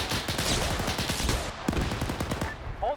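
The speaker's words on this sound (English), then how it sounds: "Hold fire, hold fire. We're shooting at each other." Automatic gunfire in an Arma Stargate Zeus operation at a crashed ship: rapid, steady bursts of shots fill the whole stretch, loud and close, with a brief louder crack partway through.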